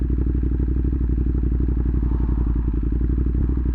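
A Ducati Panigale V4 motorcycle engine runs hot at a steady idle close by. It gives a continuous, loud, throbbing rumble with a fast, even pulse and no talk over it.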